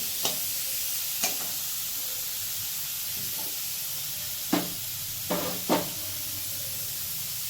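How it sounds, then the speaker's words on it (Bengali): Chicken and spices fry in oil with a steady sizzle, cut by a few sharp clatters as a spoon stirs and scrapes the pan at close range. "মাংসটাকে দিয়ে দিচ্ছি মশলাটা একটু হালকা ভেজে নিলাম"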